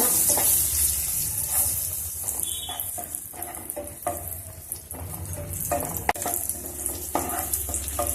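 Raisins frying in hot oil with whole spices for chicken majboos, a loud steady sizzle close by with scattered clinks and scrapes of a spoon stirring through the pan.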